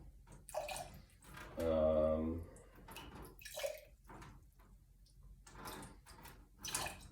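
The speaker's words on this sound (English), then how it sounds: "So I'm going to start to dump more developer and pour a little bit more off of this top corner" Developer liquid is poured off the corner of a dry collodion photographic plate, a brief quiet splash and trickle lasting under a second, with soft drips and speech around it.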